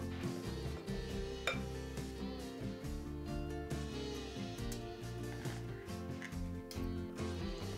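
A spoon clinks and scrapes against a metal muffin tin as chocolate chip muffin batter is scooped into the cups. The clatter is close and intermittent over steady background music.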